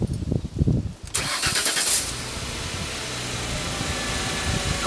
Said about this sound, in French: j'écoute des sons qui sont déjà normaux lorsque je vais démarrer ma voiture.